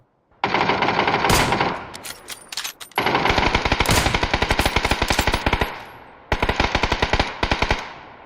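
Automatic gunfire from the PUBG video game: loud, dense rapid bursts of machine-gun shots in three long volleys separated by short pauses, with no talking.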